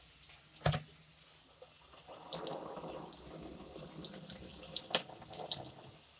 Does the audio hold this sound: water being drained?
yes